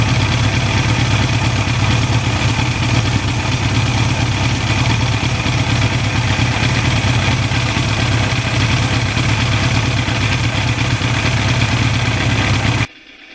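A 1982 Suzuki GS1100E motorcycle engine idling with a steady, throaty low rumble, loud and close, running evenly for about thirteen seconds before cutting off at the end.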